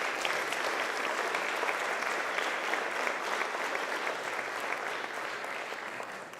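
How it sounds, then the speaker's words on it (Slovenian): A crowd applauds steadily at the 65th anniversary celebration of the Nova Gorica tourist society, a dense, sustained wash of many hands clapping that holds evenly throughout and fades slightly at the end. "Za začetek kar en aplavz in seveda vse najboljše."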